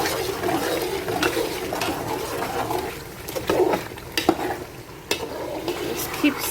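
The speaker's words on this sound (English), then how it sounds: "Just keep stirring it." Nigerian chicken stew stirred in a pot over low heat, a steady close sizzle with scraping stirs and occasional sharp knocks of the spoon against the pot.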